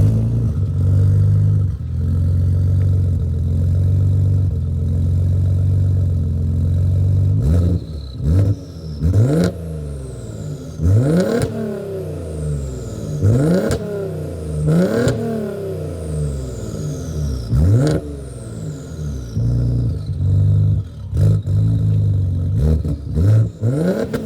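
A warmed-up Audi S4 engine, swapped into an A4, revs hard through a launch start with a loud, close series of rising throttle sweeps and sharp cracks, each climb cut short before the next one surges.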